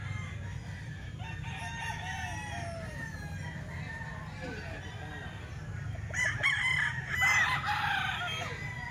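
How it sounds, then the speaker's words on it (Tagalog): Roosters crow repeatedly over a steady low rumble of background noise, with a louder, closer crow near the end and some clucking. "Ayan manok pa ni Boss Albert."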